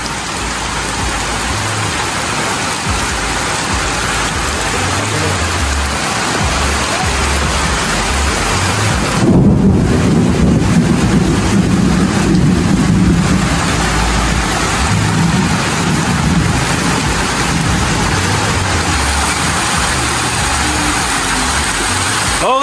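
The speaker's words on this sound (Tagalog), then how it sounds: "Ayan, naulan! Wala ng tao! Ang lakas ng kidlat!" Steady, heavy rain pours down close by with a continuous hiss, while a low engine-like rumble swells partway through; no distinct thunderclap stands out.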